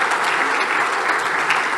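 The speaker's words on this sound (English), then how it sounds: "So big round of applause for Jack." Sustained applause from an audience, steady dense clapping throughout with no voices standing out.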